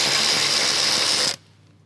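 A ratchet wrench loosens a bolt on the hood latch assembly of a 2022 or newer Toyota Tundra, one loud continuous burst of clicking close up that stops abruptly.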